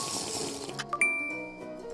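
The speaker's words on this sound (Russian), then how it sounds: "Заливаем воду и подаем питание." Water pours and splashes steadily into a LEGO wave tank, with a brief bright gurgle partway through and a continuous liquid rush throughout.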